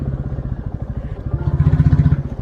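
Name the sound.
motorcycle riding on a rough mountain road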